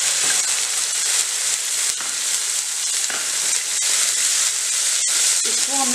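Onion and garlic paste sizzling loudly in refined oil in a kadhai, a dense continuous crackling hiss close up with faint stirring scrapes throughout.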